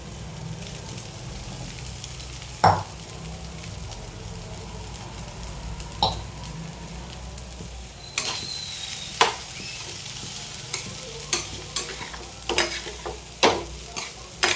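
Cooked rice is stirred into sambar in a hot pan, giving a steady sizzle with repeated sharp scraping knocks of a spoon that come faster in the second half, close and loud.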